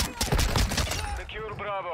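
Rapid gunfire from a 9mm Daemon in a Call of Duty match crackles in dense, loud bursts, then gives way to a voice speaking over the game sounds.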